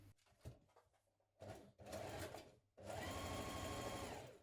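A domestic sewing machine stitches a blouse side seam with a 1.5 cm seam allowance, running in short bursts and then one long steady whir, loud and close.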